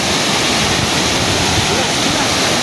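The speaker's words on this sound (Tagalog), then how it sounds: "Ayan, napakalakas ngayon ng tubig sa falls." A strongly flowing waterfall at a campsite in Santa Maria, Laguna roars as a loud, steady, close wash of falling water filling the whole moment.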